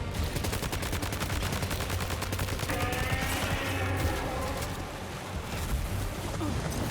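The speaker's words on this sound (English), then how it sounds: "we should actually probably use the assault rifle" In Death Stranding 2: On the Beach on PS5, an assault rifle fires in rapid, sustained automatic bursts, close and loud, with a brief lull near the end before shooting resumes.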